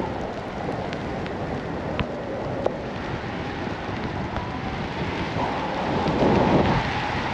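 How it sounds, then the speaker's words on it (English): Rain pours steadily in a big storm near Chamonix in the Alps, heard during a cross-country paragliding flight as a dense, loud, unbroken hiss with a couple of brief ticks and a swell near the end. "I'm just clearing the rain here"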